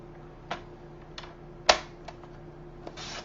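Paper trimmed for a scrapbook layout: several sharp, isolated cutting snaps and slicing clicks at uneven intervals, one louder than the rest, close by in a quiet room.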